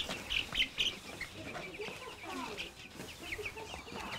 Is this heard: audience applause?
no